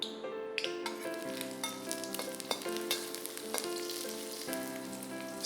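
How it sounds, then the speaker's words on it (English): Ginger stir-frying in hot oil for a Teochew chicken dish sizzles steadily and close, with light stirring clatter and tonal ringing layered over the frying. "Stir fry this ginger till it's fragrant."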